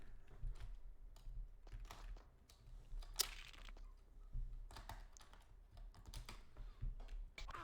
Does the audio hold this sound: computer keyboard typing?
yes